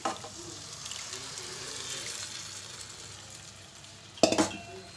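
Cooked vegetable kichadi is stirred in a pan, giving a soft, continuous wet swishing close by, ending with a sharp louder clink of a utensil against the pan.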